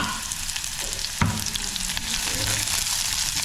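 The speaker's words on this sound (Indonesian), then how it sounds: "Kita tumis terlebih dahulu untuk bawang merah," Shallots and garlic sauté in hot oil for a Javanese green-chilli tempeh dish, giving a steady, close sizzle throughout, broken by one brief utensil clatter near the middle.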